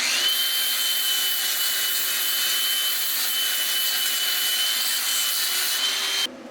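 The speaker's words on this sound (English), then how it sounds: "I'm just gonna take a grinder and probably smooth it out a little bit" Grinder smoothing a plasma-cut metal edge gives a loud, steady, high abrasive whine with a sustained grinding hiss, running continuously close by before cutting off abruptly at the end, with no talking.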